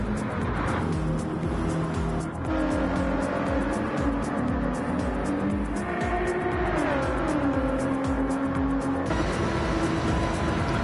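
Race cars in Gran Turismo, led by a Toyota Supra GR3 car, roar continuously around the track, engines rising and shifting pitch with gear changes, occasional tire squeal over a dense, loud mechanical drone.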